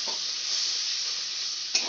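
Tomato paste sautés in a pan, a dense continuous sizzle with soft stirring scrapes at the start and a brief louder stir near the end, close and without speech.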